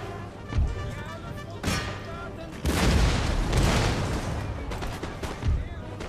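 Pirate mobs fire at troops in the Empire Total War strategy game, with booming musket volleys and thuds spaced over several seconds, loud and rumbling amid battle noise.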